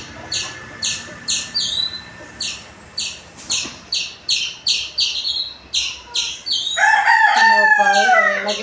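Domestic chickens cluck in a quick series of sharp, evenly spaced calls, then a rooster breaks into a loud, close crow that fills the last couple of seconds.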